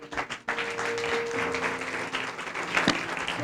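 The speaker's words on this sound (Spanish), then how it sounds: "Mandale un aplauso al rey" An audience at a talk on faith gives a fairly quiet round of applause. The clapping is soft and continuous, with a low steady hum underneath, and there is no speech over it.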